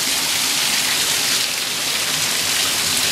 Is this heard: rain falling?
yes